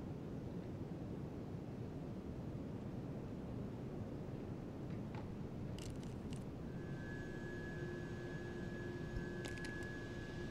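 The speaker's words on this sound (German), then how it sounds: "So als würde einfach ein Lüfter dröhnen." A character's power in Life is Strange 2 produces a constant fan-like hum and rushing drone, steady and fairly loud throughout, with thin high tones and a few faint clicks appearing later.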